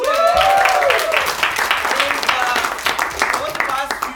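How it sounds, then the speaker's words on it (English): An audience at an improv comedy show by an improv troupe in Bangalore breaks into clapping and cheering, with whoops and shouted voices mixed into the lively applause, which is loud and close at first and then carries on more thinly. "Give yourselves a cheer."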